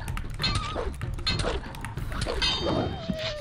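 An orc dog in the game Kroniki Myrtany: Archolos gives several short barks and yelps over about three seconds, mixed with thumps and other game sounds at moderate level.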